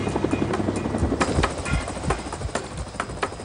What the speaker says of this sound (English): helicopter squadron converges on New Orleans, flown by experienced pilots from across the Gulf Coast.